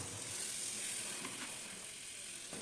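Malabar spinach stalks with potato, a little eggplant and spices frying in a pan, a faint, steady hiss of oil with a few soft stirring scrapes, close by and without speech.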